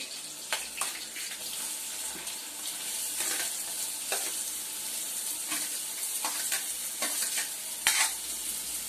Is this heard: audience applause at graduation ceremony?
no